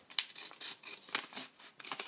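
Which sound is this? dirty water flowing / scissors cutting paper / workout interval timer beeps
scissors cutting paper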